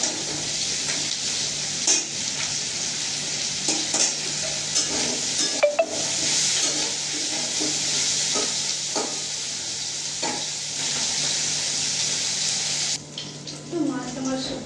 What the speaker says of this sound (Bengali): আর কিছু মাছ কড়াইতে আছে।